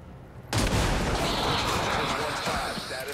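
A claymore mine in XCOM 2 War of the Chosen is shot and detonates, a sudden loud blast that rolls into a sustained rumbling roar lasting several seconds.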